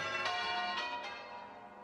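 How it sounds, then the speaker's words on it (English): Church bells ringing in celebration in wartime Britain, several distant metallic strikes with a long shimmering ring, faint and quiet throughout. "the church bells rang in celebration."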